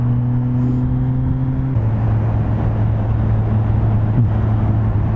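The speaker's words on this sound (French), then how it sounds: "Quand tu vois 35 tonnes qui freinent à ta gauche, tu fais oh là là" Heavy 35-tonne lorry braking alongside a motorcycle on the road, a deep steady engine drone with tonal whine that shifts and drops partway through, close and continuous under wind rush, with no talking.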